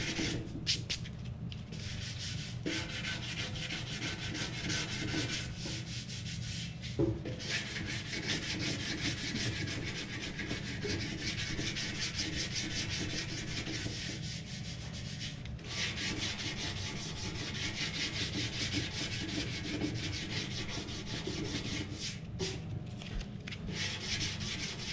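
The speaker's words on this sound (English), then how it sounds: "Got some 80 grit here. I'm just gonna block it back down," Continuous rhythmic scratching as 80 grit sandpaper on a block is rubbed back and forth over painted Kawasaki 1400 motorcycle tanks, close and steady with slight pauses in the strokes, and no talking.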